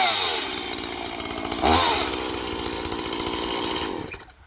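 A Stihl MS170 chainsaw held at full throttle runs loud and steady, with a brief surge in revs partway through before the engine note tapers off at the end; no one speaks.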